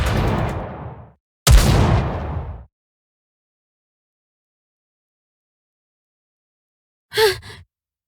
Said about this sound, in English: Those gunshots.